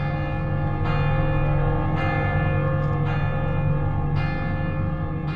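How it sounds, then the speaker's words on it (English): Church bells of Viviers peal in the distance, a steady, rich ringing with fresh strikes landing about once a second over a continuous hum of overlapping tones, with no voices. "In the distance, we can hear the bells of Viviers"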